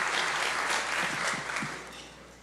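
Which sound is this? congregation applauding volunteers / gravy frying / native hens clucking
congregation applauding volunteers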